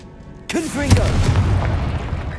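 A Confringo blasting spell explodes in Hogwarts Legacy with a sudden loud boom that rolls into a sustained rumbling burst, while a voice speaks briefly over its onset.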